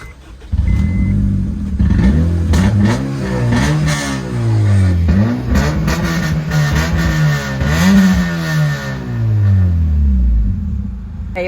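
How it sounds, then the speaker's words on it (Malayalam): A Honda Civic fitted with a Mugen kit starts up and its exhaust revs repeatedly, loud and close, with rising and falling engine pitch sweeps throughout. "ഇനി മെയിനായിട്ട് വണ്ടീൻ്റെ എക്സോസ്റ്റ്, അതിൻ്റെ സൗണ്ട് നമുക്ക് ജസ്റ്റ് ഒന്ന് കേട്ട് നോക്കാം."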